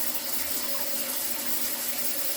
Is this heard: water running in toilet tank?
yes